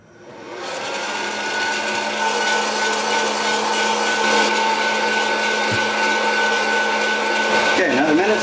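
A home coffee roaster runs continuously with a loud, steady mechanical whir and hum, close by and unbroken throughout, with small clicks near the end.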